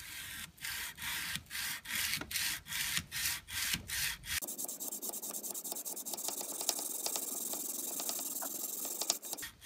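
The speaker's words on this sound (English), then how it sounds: "start sanding." Steady back-and-forth scraping strokes of sandpaper on a blade, about ten rhythmic passes, then a continuous denser rubbing hiss, close up.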